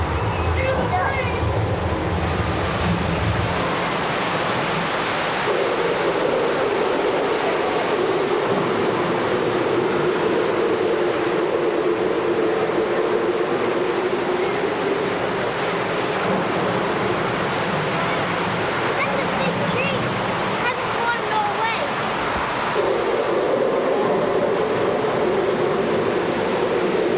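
A constant loud rush of water and rumbling ride machinery from a Universal Studios theme park ride in 1990 fills the scene, with people's voices mixed in throughout.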